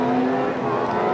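Touring race cars of the 1995 ITC series lap Donington with a continuous engine drone that holds steady, heard at some distance.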